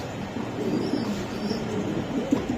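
Lahori Giribaz pigeons coo softly in low, repeated, throaty murmurs over faint background noise, quiet and fairly close.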